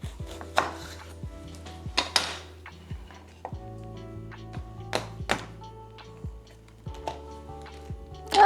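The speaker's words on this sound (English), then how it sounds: "I also have an orange, so let's slice that up too" An orange being sliced with a knife on a cutting board, a series of irregular, close thunks and taps as the blade hits the board, alongside some faint kitchen clatter.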